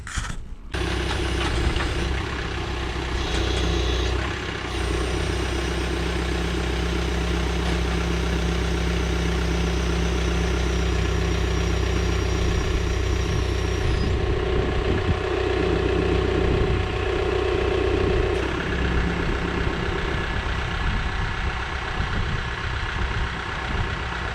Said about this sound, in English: I decided I'd just do that at an idle to see exactly how high we could get it up with the engine just at an idle